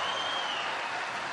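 Tennis crowd applauding at the Australian Open 2015 for Andy Murray, a steady broadband wash of clapping that holds at an even, fairly loud level throughout the short stretch with no pauses.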